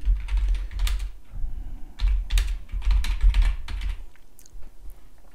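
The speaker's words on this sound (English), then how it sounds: "And just go ahead and type in Tag Manager for WordPress." Typing on a computer keyboard, close-up clusters of quick key clicks in several bursts separated by short pauses, with the last taps sparser and fainter.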